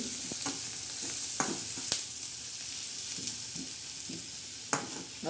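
Tadka sizzles in a pan for a ridge gourd curry with chana dal, a steady frying hiss broken by scattered pops and the scrape of stirring, close and moderately loud.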